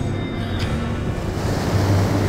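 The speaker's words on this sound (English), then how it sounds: "we got some serious swell and wind still" Heavy ocean swell and wind off the west coast of Haida Gwaii, a steady rushing surf roar with buffeting wind noise and a low hum underneath.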